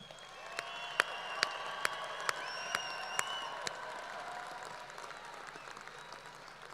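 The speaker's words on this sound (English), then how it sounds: "let's give a huge round of applause for our graduates" Steady applause from a commencement crowd honouring the graduates carries on throughout, fairly faint and even, with a few sharper claps standing out in the first half.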